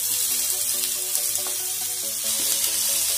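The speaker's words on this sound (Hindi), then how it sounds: "तो यहाँ एक पैन में मैंने तेल गर्म कर लिया है, इसमें हम अपनी प्याज की फिलिंग डाल देंगे" Onion samosa filling fries in hot oil in a pan, giving a steady, close sizzle with soft crackling and a faint stirring scrape.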